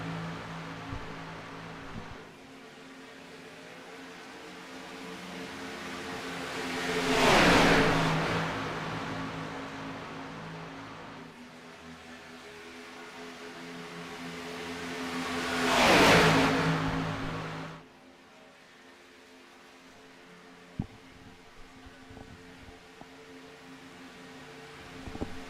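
Race cars in the iRacing game roar down the front stretch at Daytona, two loud passes building and fading as the pack sweeps by, over a steady engine hum between them.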